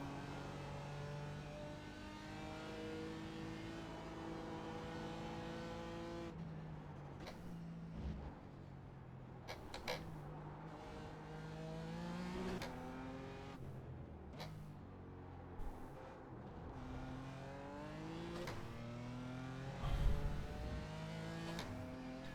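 A BMW M4 GT4 race car lapping Silverstone, its engine droning and climbing through the revs, with rising pitch sweeps broken by sharp gear shifts and brief throttle lifts, steady and close throughout.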